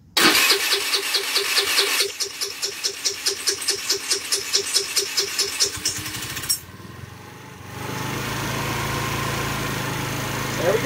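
A cheap scooter engine fitted with a new carburetor starts with a brief whir, then runs in a loud, rapidly pulsing putter for several seconds before cutting off; a quieter steady idle hum follows after a short gap.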